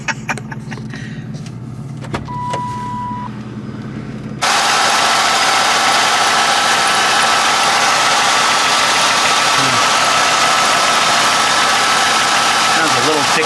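A Lincoln Mark VIII LSC engine turns over and settles into a loud, steady idle, close up, with a rapid lifter tick running through the rumble after a quieter stretch with some talk.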